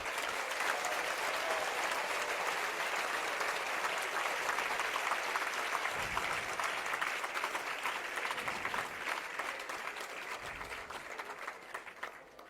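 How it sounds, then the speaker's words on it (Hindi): Continuous audience clapping during a sermon at a religious gathering in Jabalpur, a dense even wash of applause that holds steady and fades slightly toward the end, with no talking over it. "आप लोगों ने तालियां भी बजा दी"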